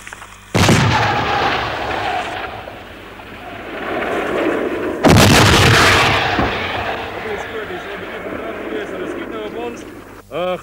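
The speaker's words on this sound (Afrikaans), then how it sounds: "Daar is nou so baie brand en stof. En rook van die skote en van die skote wat ontplof" Artillery shells fire and burst at a war-zone bridge, two heavy booms a few seconds apart, each followed by a long rumbling tail, with someone talking over the din.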